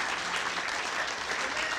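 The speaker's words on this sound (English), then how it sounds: "Please clap up for all our boosters." A crowd at a gridiron football lifetime achievement award event applauds the boosters with continuous, steady clapping that sounds soft and somewhat distant throughout.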